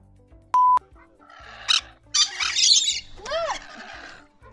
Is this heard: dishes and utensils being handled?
no